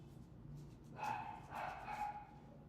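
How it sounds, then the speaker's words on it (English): Dogs bark somewhere off in the background, a few muffled, slightly distant barks in two quick bursts over a low room hum. "My fucking dogs barking and shit."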